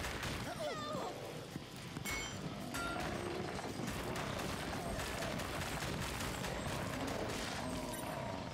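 Rapid gunfire from the House of the Dead Remake light-gun style shooter, a dense continuous barrage of game shots and crashes throughout, with no pauses and fairly steady loudness.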